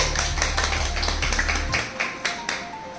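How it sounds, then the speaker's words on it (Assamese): A short burst of hand clapping celebrating 60,000 Facebook followers, a few people clapping in a quick run that thins out into a handful of scattered claps, fairly close. "এটা হাত চাপৰি সবাই মিলি প্লিজ মোৰ বাবে।"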